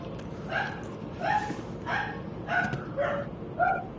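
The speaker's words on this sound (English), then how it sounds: "Sorry for the dogs in the background." Dogs barking and yipping in the background of a house, a string of about six short high-pitched barks spaced roughly half a second apart, moderately loud over a constant low room noise.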